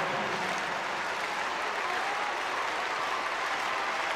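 A stadium crowd at the World Para Athletics Championships in London applauds in a dense, sustained roar of clapping that stays loud and steady throughout.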